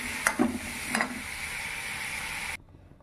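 Taro sizzles in hot oil in a pan with a steady, close frying hiss and a couple of light clinks early on, then the sound cuts off abruptly near the end.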